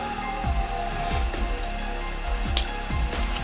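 Rain falling steadily beside the River Ebro at night, a dense patter on surfaces with a few heavier drips and soft low thumps throughout.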